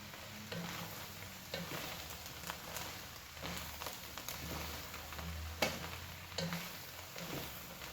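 Pumpkin sizzling in a pot for pumpkin fennel chowder, a moderate crackling fry with intermittent stirring scrapes and knocks at a steady pace, heard close and without talking.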